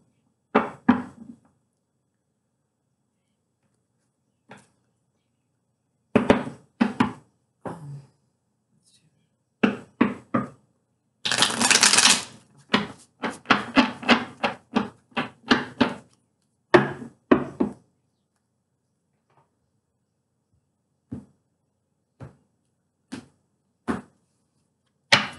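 Tarot cards being shuffled in short, crisp bursts of riffling and tapping with a longer dense riffle in the middle, separated by quiet gaps, close and clear with no talk.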